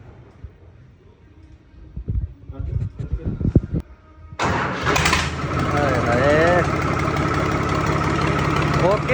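A New Holland 3630 tractor engine, cooled for twenty minutes, cranks and fires up after a few seconds of people talking nearby, then settles into a loud, steady diesel idle close by.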